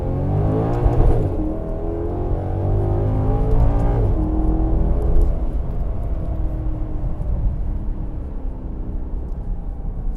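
A 2015 Maserati GranTurismo MC Sportline with a Ferrari-built engine accelerates at full throttle in sport and manual mode, its loud engine note climbing steadily and dropping briefly at gear changes, heard from inside the car.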